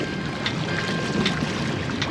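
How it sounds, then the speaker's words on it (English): Steady wind rushes and buffets around a MacGregor sailboat beating upwind at about 12 knots on a desert lake near the Hoover Dam, with a continuous roar and small gusty swells and no voices. "This lake can get really windy coming out of the desert."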